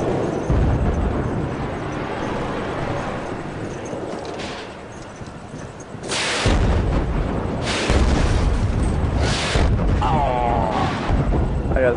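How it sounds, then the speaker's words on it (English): Explosions and gunfire in the Killzone 3 Beta multiplayer shooter: dense, continuous rumbling battle noise with several heavy booming bursts in the second half, loud and close. "I was trying to figure out what all those explosions were"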